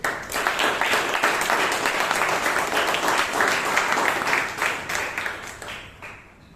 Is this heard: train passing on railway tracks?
no